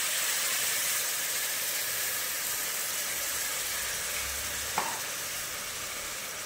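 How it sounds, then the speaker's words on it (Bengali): Steady close sizzle of fried spice paste as coconut-milk water is strained into the pan, a broadband frying hiss throughout with one brief soft clink near the end, no voices. "এবার সেই নারকেল কোড়ার যে জল দিয়ে পেস্ট বানিয়েছি সেটা আমরা ছেঁকে দিয়ে দেব।"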